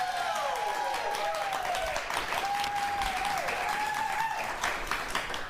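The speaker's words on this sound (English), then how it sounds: "audience, if you guys keep clapping well, we'll all go to Dollywood after this" A television talk show's studio audience claps steadily, a thick field of applause with a whistled tone sliding above it.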